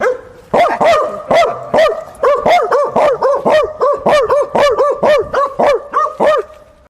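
Several dogs barking rapidly and loudly up close, a dense run of sharp overlapping barks with barely a pause between them.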